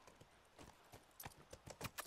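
Horse hooves clip-clop in The Last of Us Remastered video game, a faint, irregular run of quick hoof strikes that grows slightly more distinct toward the end.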